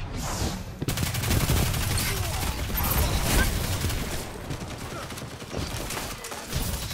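Riskrunner SMG in Destiny 2 firing in rapid, sustained automatic bursts, loud and dense with mechanical clatter throughout the combat.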